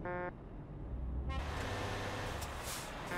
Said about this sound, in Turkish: Ne korna çalıyorsun?